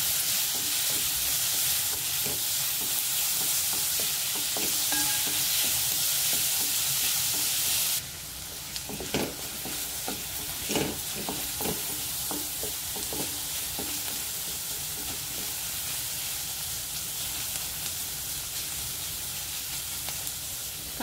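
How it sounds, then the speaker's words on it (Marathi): Chopped onion fries in a spoon of oil in a kadhai on a gas stove, with a loud steady sizzle that drops a little partway through, broken by scraping stirs, and no talk. "तेलावर कांदा टाकलाय"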